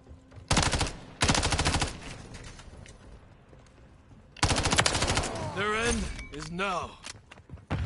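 Bursts of automatic gunfire in Call of Duty Modern Warfare 3: two loud, close rapid-fire volleys early, a quieter stretch, then another heavy burst with a voice speaking over the shooting.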